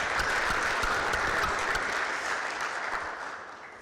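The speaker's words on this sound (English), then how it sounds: "give the volunteers a round of applause." An audience at a conference gives sustained applause for event volunteers, dense steady clapping from a crowd that gradually fades toward the end.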